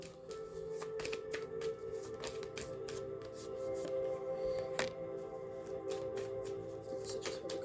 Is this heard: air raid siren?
no